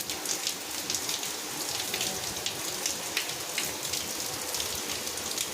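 Heavy rain pouring down steadily, a dense close hiss with drops pattering hard on surfaces, no voices.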